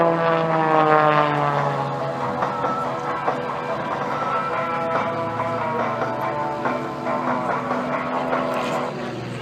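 A stunt airplane at an air show powers up its propeller engine, a loud rising and falling harmonic drone that swells as it accelerates, heard from the ground at moderate distance.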